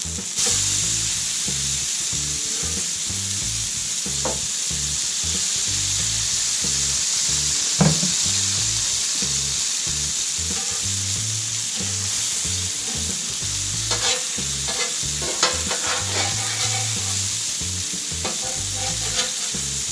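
Blackened grouper fillets fry on a Blackstone griddle with a loud, steady sizzle and hiss throughout, broken by occasional scraping and tapping of a spatula near the end.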